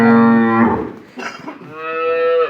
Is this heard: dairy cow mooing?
yes